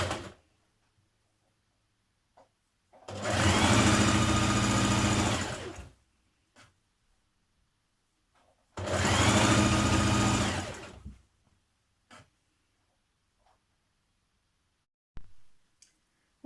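A sewing machine stitching the side seams of a tunic, running in two steady bursts of about three seconds each with quiet pauses and a few small clicks between them.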